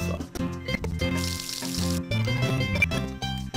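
Watering crops in Harvest Moon: A Wonderful Life, a game watering-can effect heard as a close splashing pour of water over soft game music, lasting a few seconds.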